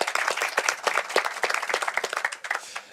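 A lively crowd at a French Tech Day pitch contest claps to welcome a presenter, the individual hand claps sharp and distinct, swelling and thinning in a brisk uneven rhythm.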